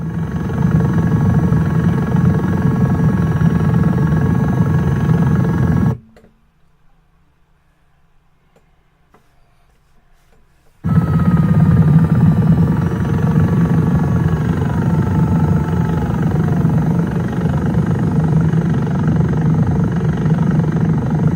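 A jet gyroplane drones loudly in flight with a steady engine roar and whine, then cuts abruptly to near silence for about five seconds before the same loud engine noise returns.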